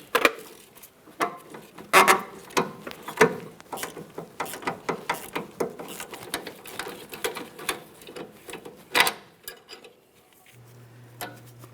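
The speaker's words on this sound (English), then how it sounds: "I'll be using a 14mm and I'm just holding that socket with a ratchet." A hand ratchet turns a 14mm socket on a front strut bolt of a 2012-2015 Honda Civic, giving a fast series of sharp metallic clicks up close that trails off into quiet.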